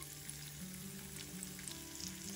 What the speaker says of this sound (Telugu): ఆయిల్ వేడయ్యాక దీనిలో 1 టీ స్పూన్ అల్లం ముక్కలు,